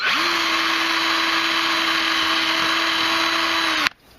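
A power drill runs steadily for nearly four seconds, widening a hole in a butane cartridge, with a constant whining hum that cuts off abruptly near the end, close and loud with no talk.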